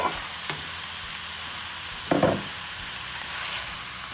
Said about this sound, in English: So now we're gonna add our ground beef.